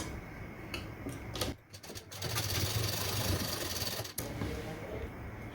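A sewing machine runs steadily while stitching a princess cut blouse, a close, even mechanical whir broken by a short pause and a few clicks partway through.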